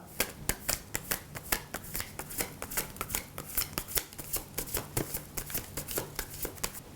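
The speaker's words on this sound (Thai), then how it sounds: "เดี๋ยวขอสับไพ่สักครู่ครับ" A deck of fortune-telling cards is shuffled close up, a steady run of crisp riffling slaps repeating in a quick rhythm alone without talk.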